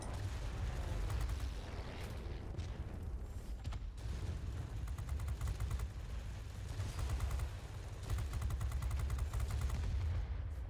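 Sustained rear-gunner machine gun fire in the World of Warplanes air combat game, a dense rapid rattle running continuously over a low engine drone, with a few brief pauses and bursts of sharper clatter.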